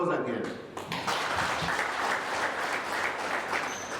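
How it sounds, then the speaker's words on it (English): Sustained audience applause at a ministerial speech event on community-based natural resource management, dense and steady throughout, a nearby burst at the start before settling into an even roar of clapping. "Can we give that applause again?"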